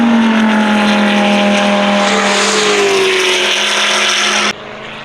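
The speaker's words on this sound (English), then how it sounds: "Here comes the Lamborghini." A Lamborghini Super Trofeo race car screams past on the VIR circuit, loud and near, its engine pitch sliding down as it goes by before cutting off abruptly.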